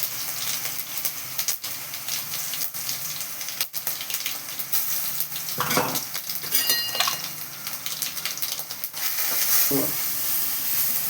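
Crushed onion and garlic hitting hot oil in a pan for Tirunelveli poruma kuzhambu make a broad, hissing sizzle, with a few sharp clicks and scrapes of stirring, and the frying swells toward the end.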